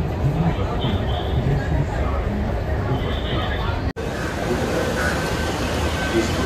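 Metro train at Jogeshwari metro station in Mumbai: a steady, loud rumble of train and station noise with crowd babble throughout, and a brief dropout near the middle.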